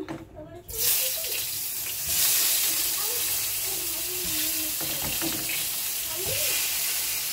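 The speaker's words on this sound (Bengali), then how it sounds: "উচ্ছেগুলো আমি এক এক করে ভেজে নেব" Pieces of bitter gourd fry in hot oil with a loud, steady hiss and sizzle that fills the kitchen. A voice talks faintly underneath.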